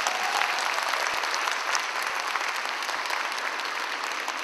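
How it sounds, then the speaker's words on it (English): Conference audience at a Caribbean diaspora forum at York College breaks into dense, sustained applause, an even wash of many hands clapping for several seconds with no voices over it. "Give yourselves a round of applause."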